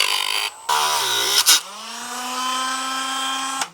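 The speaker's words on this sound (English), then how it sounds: "I had to Dremel this little piece right there." Dremel rotary tool whining steadily as it cuts a small plastic piece off a servo saver on a Traxxas Mini Maxx RC car, with a brief pause and a couple of sharp bursts before a long sustained grind.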